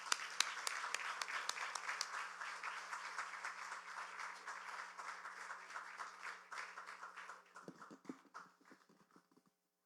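Applause at a decree signing ceremony for communication law regulations, a steady dense roll of many hands clapping for about eight seconds before thinning into scattered final claps and silence.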